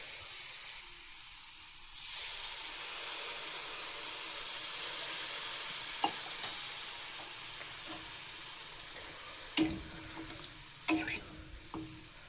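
Water tipped from a glass into a hot pan of spiced, fried coriander brings a steady broad sizzle and steamy hiss. Sharp clinks and knocks of the pan and utensil stand out near the end.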